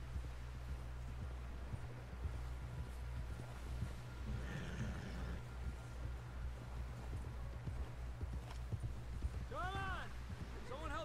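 Horse hooves clip-clop steadily on the ground in the Western video game Red Dead Redemption II, a continuous walking rhythm under a low rumble with background sounds, while voices talk over it.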